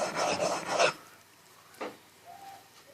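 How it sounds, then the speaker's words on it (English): A steel chisel is sharpened on a Norton stone. About a second of close, rough rasping from a push-and-pull stroke is followed by a single shorter scrape, then near silence. "trying to use the entire width of the stone, going sideways as I push and pull the stroke."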